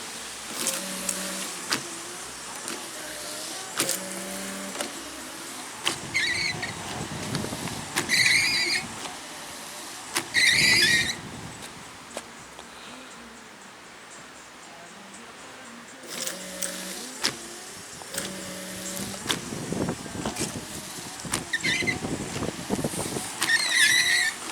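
Windshield wipers on a 2002 Lincoln Town Car run after a wiper motor replacement, sweeping back and forth in a repeating rhythmic pattern with squeaks and a motor whir, close by and without talk.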